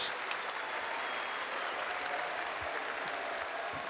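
A large arena audience at the CS:GO FACEIT Major 2018 applauds steadily throughout, a dense sustained wash of clapping with faint crowd noise.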